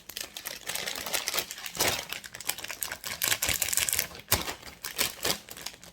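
A mini heat sealer runs along a plastic bag, sealing and trimming it, giving a steady crinkly crackle with sharper snapping bursts throughout, close and fairly quiet.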